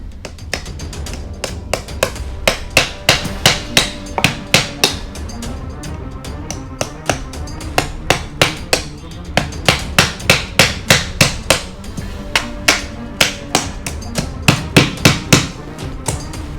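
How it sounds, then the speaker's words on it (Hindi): A hammer drives a nail into a piece of wood in a home setting, with sharp metallic strikes landing in quick steady bursts of several blows, pausing briefly between runs, close and loud with no talk. "इस कील को ना इस लकड़ी के अंदर ठोक दे।"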